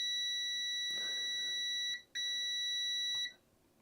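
A multimeter in continuity mode gives a steady high-pitched tone while probing wiring on a PlayStation 1. The tone breaks briefly once, resumes, then stops, and the probes click faintly.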